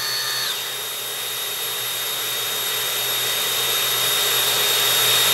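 A Dyson DC26 vacuum cleaner runs with its electric brush head on a low setting. A steady, close motor whine with a thin high tone holds throughout and swells slightly toward the end.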